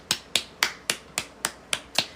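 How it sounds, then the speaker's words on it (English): Eight sharp, evenly spaced hand claps ring out close and clear, with brief silences between them. "Let's clap it up."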